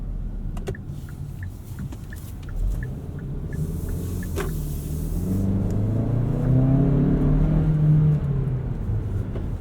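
A 2017 Kia Sportage SX AWD with a turbocharged four-cylinder accelerates at night, heard from inside the cabin as a low engine rumble that swells and climbs in pitch through the gears, with faint ticks early on.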